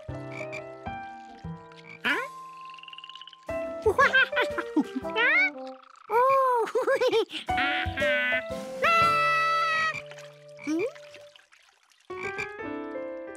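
Cartoon frogs from a lake croak in a quick series of bright, springy, musical calls, some bouncing upward in pitch, close and clear with short gaps of silence between bursts.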